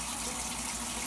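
Warm water runs steadily from a kitchen tap, a constant broadband splashing hiss that stays even and close for the whole moment with no voices.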